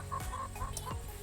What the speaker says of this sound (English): We got a whole mix of chickens.